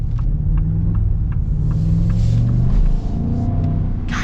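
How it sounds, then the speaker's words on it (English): A 2025 Ford Super Duty Tremor pickup with the 7.3L Godzilla V8 gives a steady, loud, deep engine rumble from inside the cab while driving, with no talk over it. "Gosh, this V8's fun."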